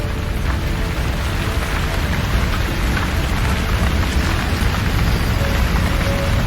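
Dense, steady roar of spray and falling water drenching the rainforest beside Victoria Falls, Zimbabwe, a constant loud wash like heavy rain with no pauses and no voices.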